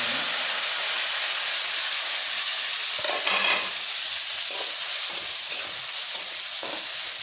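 Potatoes for aloo bhujiya frying in oil in a pan, giving a soft, steady sizzle and hiss with a few faint stirring scrapes partway through.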